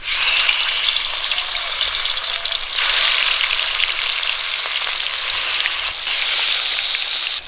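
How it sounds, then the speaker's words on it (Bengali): Rohu fish frying in hot oil in a home kitchen, a loud, steady, dense crackling sizzle heard close up and continuing throughout, with no talk over it. "মাছগুলো ওইদিকে ভাজা হচ্ছে"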